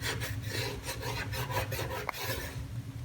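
A towel rubbed around a foggy, stained Vitamix blender container, giving a steady rhythmic scrubbing and rasping with repeated back-and-forth strokes, close and fairly loud, over a low background hum.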